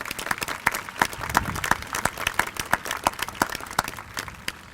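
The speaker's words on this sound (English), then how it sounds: "Let's give them a nice round of applause." The audience at the 2019 Colonial Heights High School graduation ceremony applauds, a moderately loud mix of many hands clapping with sharp individual claps standing out, sustained for several seconds with a faint crowd murmur beneath.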